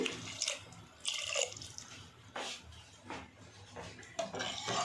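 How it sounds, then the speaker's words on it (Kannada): Short splashy bursts of water, close by, with clinks of a metal pot between the pours. "ನಾನೀಗ ಸ್ವಲ್ಪ ನೀರು ಹಾಕ್ತಾ ಇದ್ದೀನಿ"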